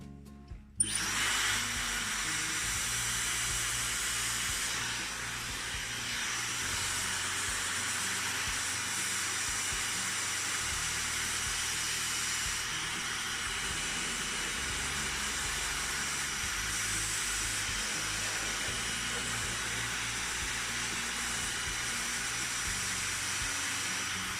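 A Dyson Supersonic hair dryer blows a steady, loud rushing hiss for the whole stretch, holding an even level while hair is styled into waves, with no talking.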